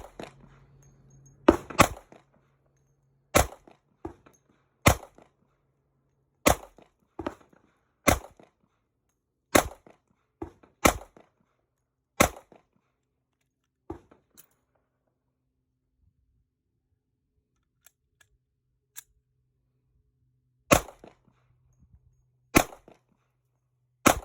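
A Springfield XDM Elite Compact 10mm pistol fires about a dozen single shots outdoors, sharp cracks spaced a second or two apart with a quiet gap before the last few rounds.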